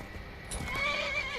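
A horse in the video game Skyrim gives a loud, drawn-out neigh with a wavering whinny, heard close and alone, with faint hoof clops in the background.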